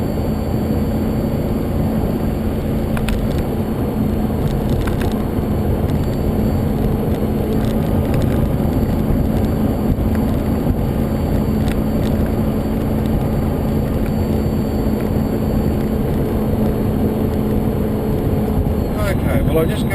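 A supercharged Holden VE SSV ute with 650 rwhp and a T400 transmission accelerates at half throttle, a steady engine and road roar heard from inside while someone talks over it.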